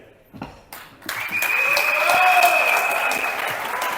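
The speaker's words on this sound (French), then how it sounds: "Tu peux applaudir plus que ça." An audience at a business presentation breaks into applause, building from a few claps into sustained, fairly loud clapping with a tonal hum running beneath.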